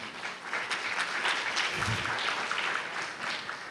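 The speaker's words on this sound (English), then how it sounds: "that rightly received applause" Audience at an arts convention applauding, a sustained wash of many hands clapping at moderate volume, with a faint voice briefly audible beneath it.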